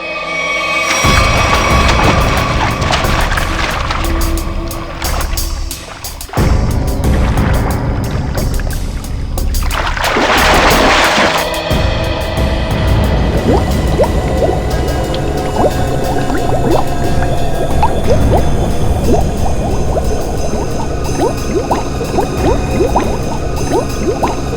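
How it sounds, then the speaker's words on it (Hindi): Water churns and splashes continuously as people enter it, with bubbling, sloshing and dripping sounds that stay loud and close throughout and include a sharper burst of splashing partway through. "अभी अभी विद्युत और निखिल दोनों पानी में गए हैं"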